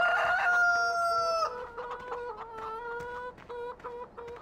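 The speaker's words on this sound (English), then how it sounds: "Look at all those eggs and the chickens." Chickens clucking and a rooster crowing in the Farming Simulator 2013 video game, loud and close, with a long crow at the start followed by repeated rhythmic clucks.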